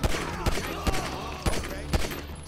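Gunfire in Grand Theft Auto V, with about six sharp, evenly spaced shots cracking over a busy game soundscape, close and loud.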